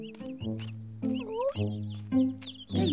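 Cartoon chicks cluck and chirp in quick bursts over a steady low musical drone, close and clear, with no talking.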